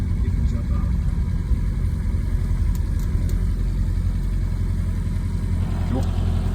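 A Buick Regal car rolls around the block, its engine humming low and steady at moderate distance, with a faint passing rise near the end.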